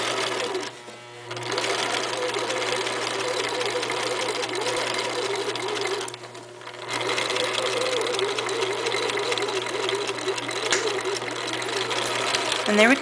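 Sewing machine stitches fabric for a girls' summer top in a fast, continuous whirring run, stopping briefly twice before carrying on, close and clear.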